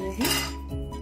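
Moong dal roasts in a pan as a metal utensil clinks against it, a couple of brief, close scraping knocks.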